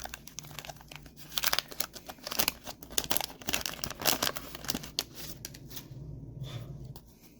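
The plastic wrapper of a 1991 Fleer baseball card pack is torn open, a close, busy crinkling and crackling with sharp tearing bursts for several seconds before it settles down. No one speaks.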